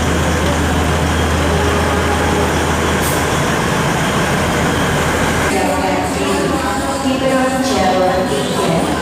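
Indonesian passenger train on the Solo–Malang route pulling out of a station, a loud sustained rumble that shifts midway into rattling wheels and rolling carriage noise, with station announcements and crowd noise mixed in.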